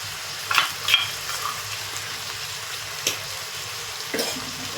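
Chicken kosha curry sizzling in a pan as spices go in, a steady frying hiss with a few brief clinks and stirring scrapes, close and moderately loud, no talking.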